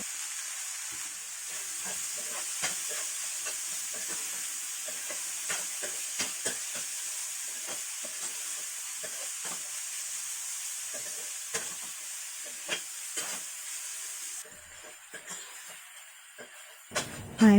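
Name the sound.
moong sprouts stir frying in a pan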